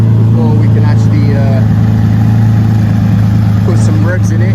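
A Lamborghini Sesto Elemento engine idles while warming up, a loud, steady, low hum with a firm even pulse close by, while a person talks over it.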